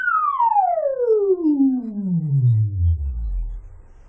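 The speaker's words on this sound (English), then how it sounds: "Nice sine wave oscillation." A Quad Timbre Bank synthesizer filter self-oscillates into a clean, steady sine tone that glides smoothly downward from high to very low pitch over about four seconds, heard alone and fairly loud.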